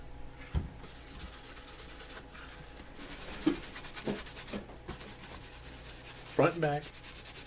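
Hand buffing of a dyed leather holster before a top coat, a soft dry rubbing and scuffing in short strokes close to the mic, with a few sharper knocks and a brief brush burst near the end.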